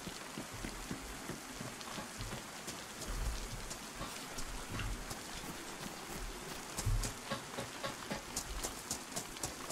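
Steady rain in the video game DayZ, falling on a surface such as an awning, a dense hiss with scattered louder drops and patters running throughout, close and moderately loud with no talking.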